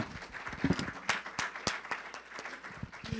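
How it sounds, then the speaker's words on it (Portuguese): A church congregation at Igreja Reformada Luz para as Nações gives a round of applause, quiet scattered claps with a few sharper nearby strikes, uneven and soft, under faint room murmur. "Eu queria uma salva de palmas para a turma que cuida das crianças lá em cima também, como gratidão."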